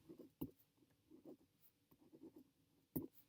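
Marker or chalk writing on a board, with soft scratchy strokes spread through the stretch and two sharper taps where the tool strikes the surface; quiet and close, with no talk over it.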